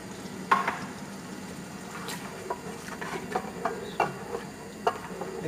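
Mutton with beetroot and tomato paste fries quietly in a pot, giving a low sizzle with scattered soft pops and spoon scrapes as it is stirred.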